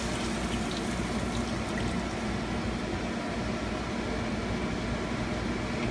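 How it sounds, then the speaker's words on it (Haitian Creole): Water poured steadily into a cooking pot for Haitian bouillon over fried leek and garlic, a continuous close, loud rushing splash with no talking. "Et là, nous mettons de l'eau pour bouillon."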